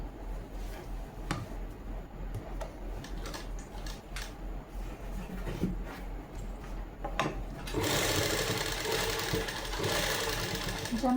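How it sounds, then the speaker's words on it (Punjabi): Scattered clicks and fabric handling lead into a home sewing machine running steadily, close and continuous, as it stitches the neckline of a Punjabi suit. "ਹੁਣ ਆਪਾਂ ਇੱਥੇ ਸਲਾਈ ਲਗਾ ਦਾਂਗੇ"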